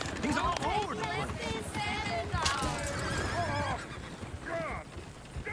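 In the Red Dead Redemption 2 video game, horses whinny and neigh repeatedly over clattering hooves, a busy, close mix of squeals and galloping with voices talking underneath.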